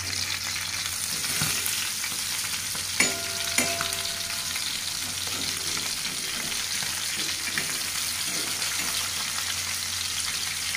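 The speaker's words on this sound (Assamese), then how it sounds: "এইকেইটা গৰৈ মাছকেইটা ভালকৈ ইলুটি কৰি ভাজি লৈছোঁ" Goroi fish frying in a pan, a steady close sizzle of hot oil running throughout with a few sharp clinks of utensil against the pan near the start.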